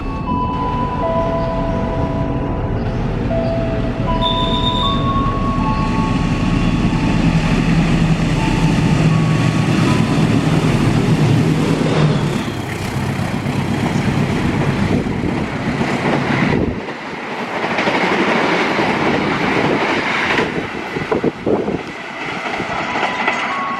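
A long train rolls loudly past close by near Klari station in Indonesia, a steady rumble with wheel clatter and brief high squeals, easing off toward the end.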